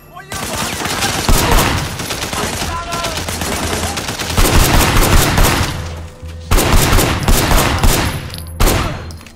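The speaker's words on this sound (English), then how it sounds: "Shooting at the guys over there." Gunfire in the Sleeping Dogs video game, with dense bursts of rapid shots rolling almost continuously across the scene, loud and close, briefly dropping out twice before resuming.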